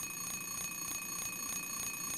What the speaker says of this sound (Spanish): ¡Es una alarma!